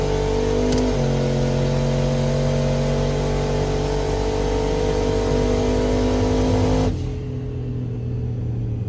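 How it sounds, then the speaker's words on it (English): A turbocharged Dodge Dakota RT with a stock bottom end launches at a drag strip, its engine roaring loud and steady with droning tones while the tires shake, then cutting off abruptly near the end; no talk. "Man, she shook the tires hard."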